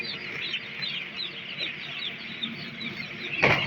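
Chickens in a controlled poultry house cluck and chirp constantly, a dense, steady flock chorus at moderate volume with no voices over it.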